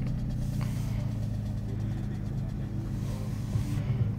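Slow-moving traffic jammed on a road makes a steady, dense low rumble of idling and creeping car engines, unbroken for the whole stretch with no voices.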